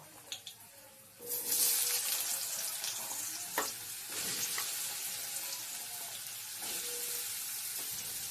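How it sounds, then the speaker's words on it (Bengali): Potatoes drop into hot oil with whole cumin and bay leaf. After a quiet start, a bright sizzle surges up and then keeps frying steadily, with occasional stirring clatters in the pan. "আলুটাকে দিয়ে একটু ভালো করে নাড়িয়ে চাড়িয়ে নিচ্ছি"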